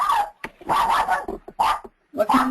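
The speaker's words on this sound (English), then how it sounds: "What kind of dog do you have? He sounds little." A small Maltese dog barks in a quick run of short, sharp yaps with brief gaps between them, close and fairly loud.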